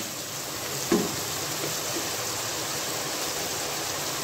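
Water poured into a pan of roasted peas for pea pulao, a continuous rushing pour at moderate level that holds steady throughout, with a small clatter near the start.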